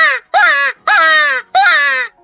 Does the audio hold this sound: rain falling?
no